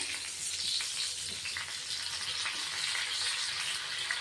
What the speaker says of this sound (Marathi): खालची बाजूही आपण आता अशी थोडी शेकून घेणार आहे.